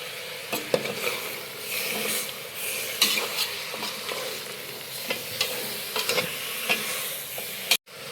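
A spoon scrapes and stirs cleaned chicken through sizzling masala in a hot pan, irregular clacks and scrapes over a steady frying hiss, close and fairly loud, ending with a brief cutoff.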